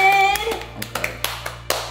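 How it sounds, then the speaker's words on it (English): A few people clap for a contest winner indoors, giving a handful of separate, sharp claps spaced irregularly after a brief tone at the start. "give it a round of applause for her"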